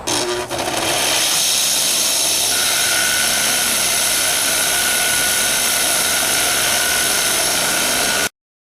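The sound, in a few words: wire wheel grinder cleaning a rasp knife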